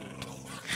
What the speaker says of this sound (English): You got killed by a dog!